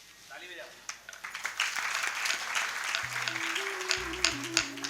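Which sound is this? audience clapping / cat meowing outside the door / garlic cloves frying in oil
audience clapping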